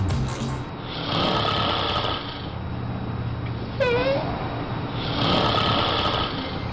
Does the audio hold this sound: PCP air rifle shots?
no